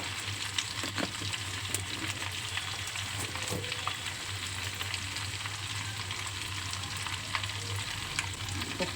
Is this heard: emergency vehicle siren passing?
no